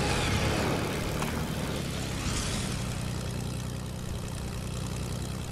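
A steady propeller plane engine drones in Fortnite, a continuous close roar that holds level throughout with no voices over it.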